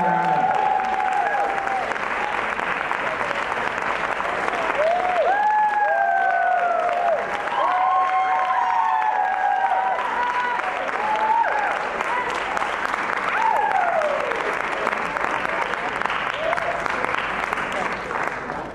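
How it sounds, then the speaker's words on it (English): Continuous audience applause at a Q&A event, steady dense clapping lasting many seconds, with cheers and voices rising over it. "Everybody give her a round of applause for her."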